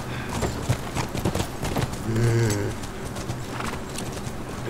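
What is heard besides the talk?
horse hooves clip-clopping in video game The Last of Us Remastered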